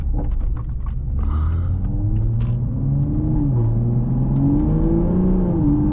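A 2020 Toyota Supra with a maxed-out burble tune revs hard and loud, its engine note rising and falling in sustained surges with rumbling crackle throughout, close and continuous.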